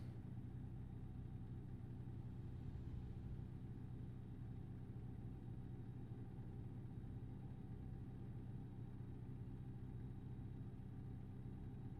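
American truck engine cruising steadily at highway speed in American Truck Simulator, a low, even rumble with a constant hum, quiet and unbroken, no voices.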